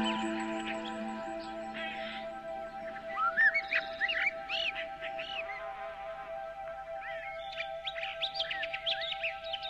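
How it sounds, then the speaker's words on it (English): Birds chirp and tweet in a forest park during a sunny-day hike, with bright repeated calls scattered across the clip over a steady low background hum, growing busier in the second half. "Hear the birds chirping."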